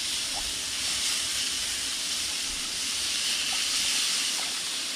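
Walleye fillets sizzle with butter on a Blackstone griddle, giving a steady, bright, close hiss with no break and no talk over it.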